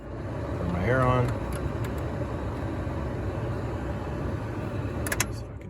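A 2005 Jeep Liberty's air conditioning blower switches on, adding a steady broadband airflow hum over the idling cabin, with a voice speaking briefly near the start and a faint click near the end.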